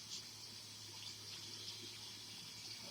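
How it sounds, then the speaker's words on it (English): A beef roast is rinsed under a running kitchen tap, a steady, moderate gush and splash of water that continues unbroken with no talking. "Rinse that meat off real well."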